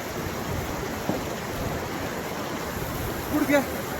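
A knee-deep stream flows across a road at a Ladakh water crossing during heavy rain, making a steady, broad rushing wash that stays constant throughout.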